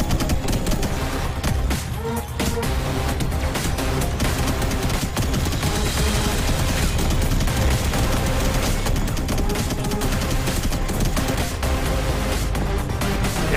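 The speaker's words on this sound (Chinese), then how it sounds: "而且我火神枪要先热机哦，你看我现在开给你看" A continuous, dense roar of rapid firing from a vulcan gun in the vehicle combat game Robocraft, loud and unbroken throughout with no pauses.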